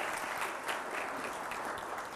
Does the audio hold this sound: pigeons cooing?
no